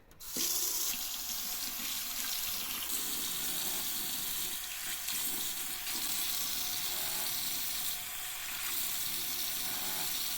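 Tap water pours steadily and loudly into a sink while a child's hands are washed, a continuous close splashing rush from start to finish with no talking.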